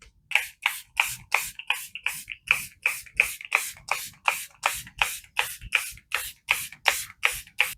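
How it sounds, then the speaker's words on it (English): Ucanbe All Day Fixer setting spray hisses out in a long series of short, evenly spaced pumps, each a crisp close-up spritz, about two per second. "for setting spray, I want to use this again, the Ucanbe All Day Fixer setting spray"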